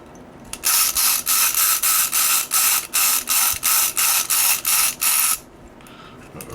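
A lock cylinder being picked with a tension tool: a loud, close run of about a dozen rapid, evenly spaced rattling mechanical bursts that stop abruptly, leaving quiet.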